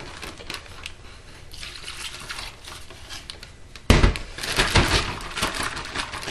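Soy sauce is poured into a marinade for venison chops, a continuous liquid trickle and splash that turns louder and fuller partway through, close by and without speech.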